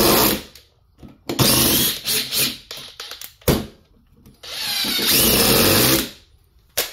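A power drill running on a universal battery drives screws in bursts, whirring up loud and close, cutting off, then starting again, with one long sustained run near the end.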